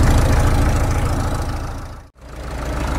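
A Caterpillar D2 bulldozer engine runs at low idle after sitting for 20 years, a close, loud, steady rhythmic chugging with a brief dip near the end.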